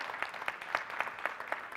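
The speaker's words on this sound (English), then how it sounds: "So give a round of applause for all the great people, right, that made this day possible." Light, sparse clapping from an audience at a youth conference, a few hands tapping in a loose rhythm, faint and brief, with no talk over it.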